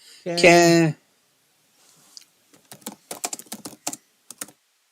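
Rapid clicking keystrokes on a computer keyboard during live play-by-play of an NFL Bills-Chiefs football game, arriving in quick irregular bursts after a brief vocal sound at the start.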